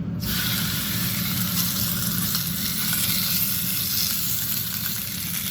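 Steak sizzles steadily in a hot griddle pan, a loud, even frying hiss that starts abruptly and carries on without a break, with no one speaking.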